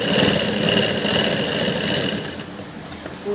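A sewing machine runs a straight seam on a blouse, a steady close mechanical whir and rapid stitching buzz held loud and continuous throughout, easing slightly toward the end.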